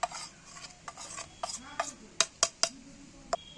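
Eggplant being mixed by hand or spoon with turmeric, salt and fried gram flour, giving soft irregular stirring and rubbing sounds with a few sharp clinks against the bowl, close and fairly quiet.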